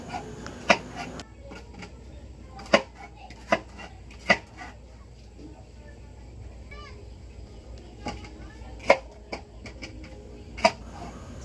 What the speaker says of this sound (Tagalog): tuloy-tuloy ng aking pag-cut ng ampalaya